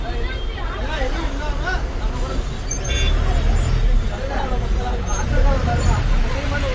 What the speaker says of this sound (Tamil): செம்ம டிராஃபிக்காக இருக்குங்க, வீக்கெண்ட் டிராஃபிக்.